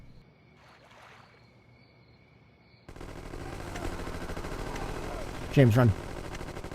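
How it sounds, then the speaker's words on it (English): Gunfire in the Gangsters 2: Vendetta game, a burst of rapid shots rising loudly over a busy noisy background near the end, with a voice speaking briefly earlier. "they're still shooting"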